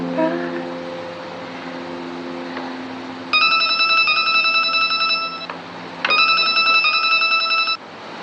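A telephone rings in two loud, close electronic bursts of warbling tones with a short gap between them, over a quiet indoor hum.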